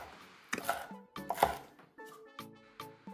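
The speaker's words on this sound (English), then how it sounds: "A couple of green onions cut into long chunks." Knife chops green onions into long chunks on a board, a few distinct, crisp cuts spaced about half a second apart, close and fairly quiet, with soft music underneath.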